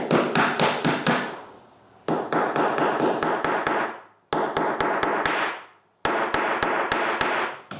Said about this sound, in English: After spreading the glue, I just need to push the female part in place.